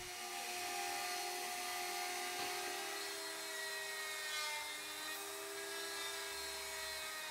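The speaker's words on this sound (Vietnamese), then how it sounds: "người thợ tiếp tục làm phẳng nền đáy khuôn bánh" Machine smoothing the base of a wooden mooncake mold, a steady high whine with sustained tonal lines over a soft scraping hiss, continuous and fairly faint.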